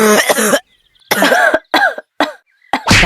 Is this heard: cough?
yes